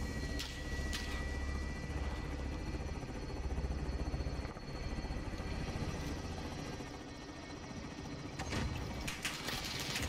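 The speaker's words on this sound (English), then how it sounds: "Choppers need to hurry up, lad." Helicopter rotor and engine drone from the video game Call of Duty (Plunder mode), a steady continuous roar running through the whole stretch at moderate loudness with a few brief sharp bangs near the start and end.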